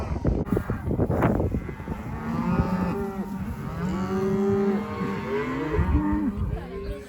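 Cattle at a branding gathering, cows and calves pairing back up, moo repeatedly in overlapping calls of varying pitch, some near and loud, others farther off, forming a steady chorus.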